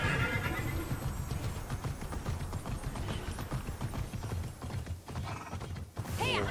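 A horse in the video game Immortals Fenyx Rising whinnies and gallops, steady hoofbeats pounding close and loud throughout, with rising neigh calls near the end.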